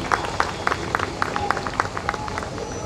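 An audience at a Dr Babasaheb Ambedkar Jayanti student award ceremony in Goa claps in steady unison, producing evenly spaced rhythmic beats about four per second.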